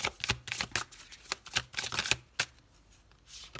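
Tarot cards are shuffled and drawn in a quick run of crisp riffles and flicks that come in bursts, then taper to softer handling noise near the end. No one speaks.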